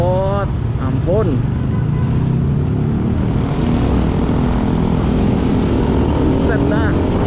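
A loud, rough motorcycle exhaust drones continuously up close, with a couple of short voices breaking through near the start and end.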